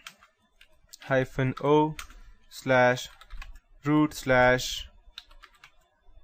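Computer keyboard keys click in short runs while someone types commands in Kali Linux. The clicks sit close and fairly quiet beneath a man's steady speech.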